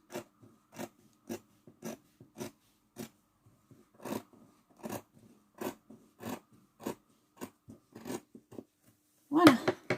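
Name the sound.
scissors cutting denim fabric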